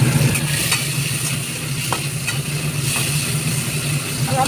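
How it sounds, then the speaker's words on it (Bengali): Prawns coated in salt and turmeric hiss and sputter in hot mustard oil in a heated pan, a loud, close, steady sizzle with a few sharp crackles and a low hum running beneath it. "তেল গরম হয়ে গেছে, এবার আমি নুন হলুদ মাখানো চিংড়ি মাছগুলো দেবো।"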